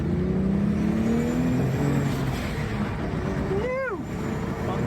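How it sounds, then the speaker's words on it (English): A car accelerating hard on a ramp, its engine droning up in pitch, then a quick falling whoosh as the turbo blow-off valve vents near the end, with steady road and wind noise close by. "Enjoy that beautiful sound of the turbo blow-off valve."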